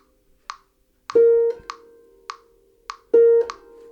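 Metronome clicking a steady pulse of short sharp ticks about every 0.6 seconds, with a brief sustained harp-like tone landing on two of the beats, clean and close without talk.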